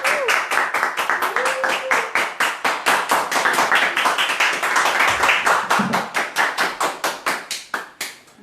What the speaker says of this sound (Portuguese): Uma salva de palmas para as mamães.